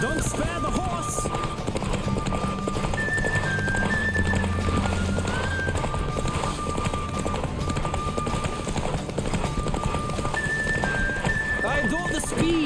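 In The Witcher 3, the horse Roach runs at full gallop, its hooves pounding in a fast, unbroken rhythm with neighs now and then, layered over sustained in-game music.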